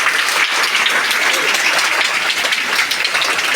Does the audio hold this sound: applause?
yes